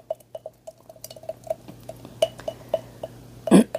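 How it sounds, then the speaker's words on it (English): A spoon stirs loose cake-like batter in a bowl, giving a series of light, irregular clinks and taps against the side, fairly close and quiet, ending in a sharper knock. "Stir it up really good."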